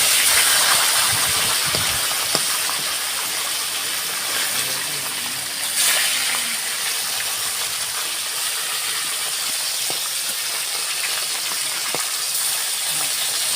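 Silver carp pieces, about three kilograms of fish, fry in a pan with a steady, loud sizzling hiss that runs unbroken for the whole stretch, with no talking over it.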